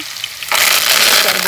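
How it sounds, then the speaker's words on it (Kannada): Garlic tipped into hot oil on a wood-fired outdoor stove sets off a sudden loud, continuous sizzle that stays strong to the end after a quieter start. "ಹಾಗೆ ಬೆಳ್ಳುಳ್ಳಿ ಹಾಕ್ತಿದ್ದೀನಿ,"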